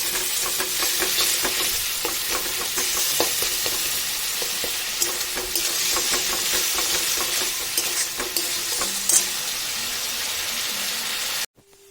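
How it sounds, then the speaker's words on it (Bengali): Masala spice paste fries and is stirred in a pan with a little water. A continuous close sizzle carries repeated scraping strokes throughout, then stops abruptly at the end. "মশলা ভালো করে কষানো হয়ে গেছে।"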